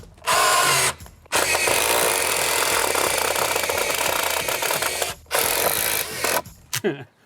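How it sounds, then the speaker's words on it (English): A power drill whirs loudly in long bursts, driving engineered screws into a block, with brief pauses between runs and a short stutter near the end. "I want to pre-drill them holes"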